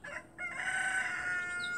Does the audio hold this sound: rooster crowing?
yes